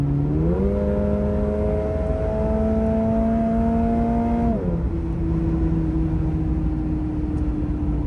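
A Toyota GR86 accelerating moderately to 70 mph, heard from inside the cabin as a steady engine drone that climbs in pitch, then drops and settles into a constant cruising hum with road noise. No talking.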